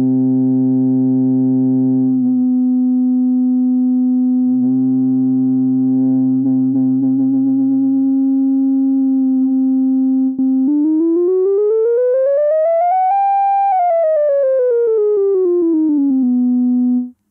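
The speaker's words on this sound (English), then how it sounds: "you could even tune the filter to be a separate sine wave source." An ARP Odyssey synthesizer with its filter tuned to act as a separate sine wave source plays a loud, steady pure tone alongside oscillator notes. The tone then glides up in pitch and back down, with no voices.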